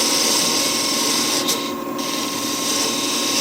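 A wood turning tool bevels the underside of a wooden flower spinning on a lathe, giving a steady, loud scraping whir with a brief dip partway through.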